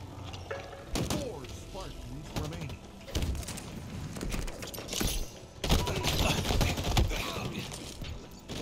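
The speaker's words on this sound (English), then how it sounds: "Getting shot from every direction." Rapid gunfire from the video game Halo Infinite, multiple weapons firing in dense, overlapping bursts with impacts from several directions, loud and continuous under a player's shouted talk.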